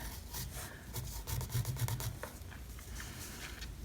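Soft, faint scratchy rubbing of a pencil shading a Zentangle pattern on paper, close up, in quick repeated strokes that thicken briefly in the middle.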